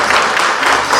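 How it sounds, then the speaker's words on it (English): A short burst of applause for a discussion panel, a crowd clapping steadily and densely for about a second. "Okay, so big round of applause again."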